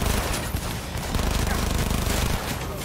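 Sustained rapid gunfire from a weapon in the video game Cyberpunk 2077, a loud, dense, continuous stream of shots that fills the whole stretch without a break.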